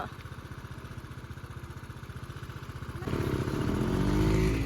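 A motorcycle engine idles with a rapid, even putter, then revs up louder and higher partway through, close by.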